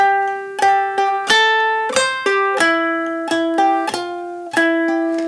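Bright ukulele melody played clawhammer style, plucked notes ringing in a steady rhythm with extra thumb strokes filling the gaps, close and clear.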